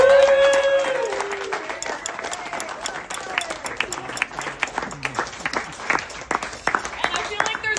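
An audience at a gaming tournament breaks into applause, scattered clapping rising after a voice at the start and continuing in uneven bursts that gradually thin out.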